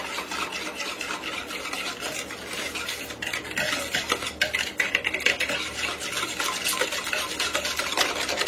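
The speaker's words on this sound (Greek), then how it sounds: "ανακατεύουμε καλά" Egg white and sugar being stirred together in a bowl for sesame cookies, a steady close scraping and swishing with rhythmic utensil taps against the bowl, no voices.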